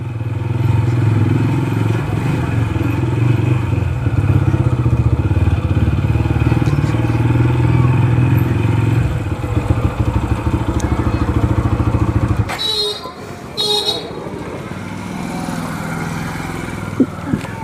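A TVS Apache 4V Special Edition motorcycle rides along with a loud, steady engine drone and road rumble for most of the stretch, then the engine note drops away near the end, leaving quieter wind and traffic noise.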